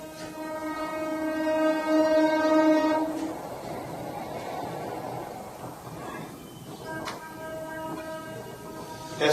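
A train crosses a railway bridge during test runs on the Himalayan Jammu–Srinagar line, its sustained horn blaring loudly for a few seconds, then a steady rumble of rolling cars continues beneath with a brief second horn toot near the end.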